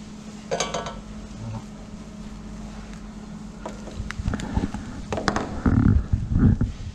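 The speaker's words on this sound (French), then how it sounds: "On étale au maximum pour faire un refroidissement rapide de la crème." Pastry cream made with egg yolks is spread thin across a tray to cool. A utensil scrapes and clinks against metal in scattered bursts, growing busier toward the end, over a low background hum.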